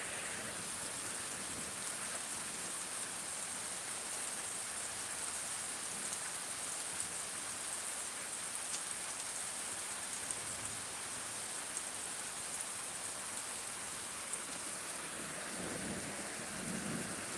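Loud, constant sheets of unseasonal rain hammer down in a rural farming area during a storm, with low thunder grumbling faintly in the background and a deeper rumble swelling near the end.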